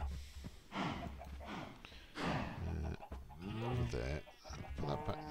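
A Minecraft cow lets out several drawn-out, wavering bleat-like moos, fairly close, interleaved with a person talking.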